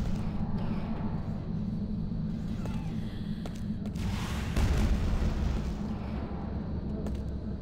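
Rocket launcher blasts and explosions ring out in Quake II, with dense rumbling booms and a heavier low burst midway over continuous game noise.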